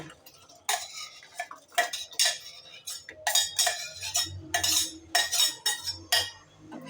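A spoon stirs soaked sago into milk in a pot for payasam, a series of close metallic scrapes and clinks in uneven bursts, with faint talk in the background.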